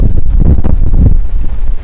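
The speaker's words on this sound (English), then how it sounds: "Look at that push of wind coming on down. That is some good gusts of wind, about 45, maybe 50." Strong wind gusts in a Boise, Idaho dust storm roar and buffet the microphone continuously, loud and close, with low rumbling surges and no talk.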